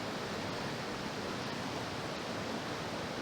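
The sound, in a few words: Salem River flowing water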